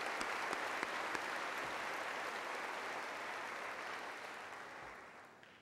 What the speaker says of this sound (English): Let's have a round of applause for all the donors and the recipients.